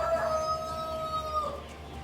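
A farm rooster crows, a short drawn-out call with a falling tail heard at moderate volume over a quiet outdoor background, fading off after about a second and a half.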